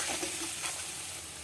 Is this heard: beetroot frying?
yes